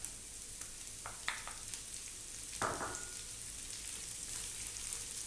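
Carrots tossed into a pan with ginger and garlic for Filipino-style sweet and sour mackerel, giving a soft, steady sizzle with a few brief clinks and a louder hiss as they land.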